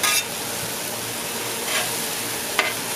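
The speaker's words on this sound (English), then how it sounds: "Okay, I'm gonna let that cook in. Flip it a couple times, really get that in there." Spicy noodles frying in a pan give a steady close sizzle, with a few brief scraping and stirring strokes as they are flipped and tossed.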